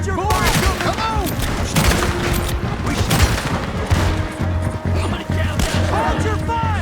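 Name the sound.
gunfire in video game Red Dead Redemption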